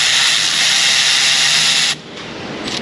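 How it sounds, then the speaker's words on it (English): A power tool pulls bolts in an auto shop, running loud and steady with a harsh high whine for about two seconds before cutting off, followed by a quieter background hum. "So now we're going to start pulling the rest of these bolts out of here."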